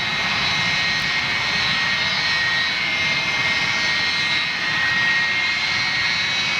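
An ex-China Southern airliner's jet engines roar loudly and steadily at Manchester, a continuous broad drone with a whining high edge, heard alone.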